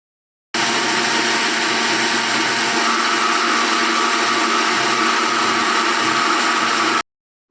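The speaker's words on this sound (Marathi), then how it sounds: "आपण मिक्सरला वरई वाटून घेऊ" A kitchen mixer grinder runs at full speed grinding barnyard millet (varai), a steady loud whirring roar that starts abruptly, holds for about six seconds, then cuts off.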